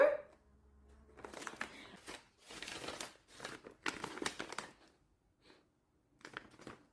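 Tissue paper crinkles and rustles in bursts as it is crumpled and wrapped around a gift, close and fairly quiet, with short pauses between handfuls and no talking.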